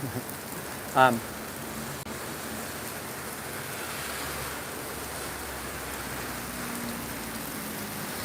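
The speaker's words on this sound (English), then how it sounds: "there's some good rain coming down right now" Steady rain falls in a park, a dense even hiss of drops that holds from start to finish, with one brief louder knock near the first second.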